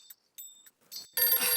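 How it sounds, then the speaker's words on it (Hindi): Electronic telephone ringtone from a missed call: two or three short high-pitched chirps, then a louder, sustained ringing burst near the end, with no talk. "हाँ भाई पोपटलाल, बोलो, क्यों बार बार मिस कॉल दे रहे हो?"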